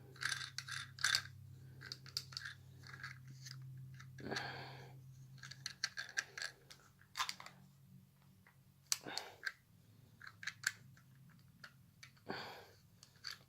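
An MPOW CD-slot phone mount being screwed together, quiet, close plastic clicks, ratcheting and small knocks scattered irregularly over a faint low hum.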